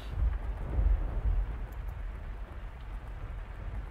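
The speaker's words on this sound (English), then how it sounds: "The sound of the pouring rain drowned out everything else." Pouring rain in The House in Fata Morgana, a steady dense hiss of heavy rainfall with a deep low rumble underneath, continuous and enveloping, no voices.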